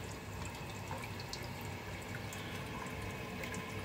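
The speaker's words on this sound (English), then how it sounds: "Mist maker creating the mist coming out perfect" A homemade humidifier with a mist maker and fan runs steadily, giving a constant close, even hiss and whir with faint watery bubbling throughout and no talking.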